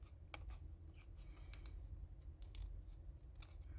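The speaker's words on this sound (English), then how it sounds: "I'm gonna just trim that edge" Scissors trimming the edge of paper close up, a series of quiet crisp snips and clicks at an uneven pace over a faint low background hum, no talking.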